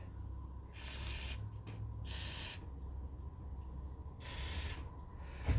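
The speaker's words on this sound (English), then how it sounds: "I'm going to put some penetrating fluid on the thermostat housing bolts" Penetrating fluid sprayed from an aerosol can onto the thermostat housing bolts of a 1997-2004 Buick Regal 3800 Series II V6, several short bright hissing bursts separated by pauses, close and clear over a quiet background.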